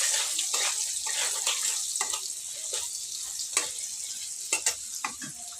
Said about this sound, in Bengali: এই আলুটাকে ভালো করে লাল করে ভেজে নেব।